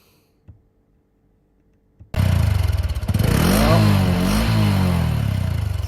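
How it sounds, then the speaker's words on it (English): An engine with its original exhaust muffler starts after two faint knocks, then idles loudly and steadily with a low, throbbing rumble and a brief rise in revs. "So there's the original muffler sound."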